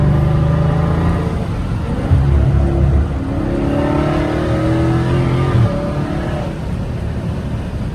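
A Dodge Challenger Scat Pack in track mode accelerates hard, its engine note climbing through the gears with rising harmonic sweeps, loud and close from inside the car, with no talking.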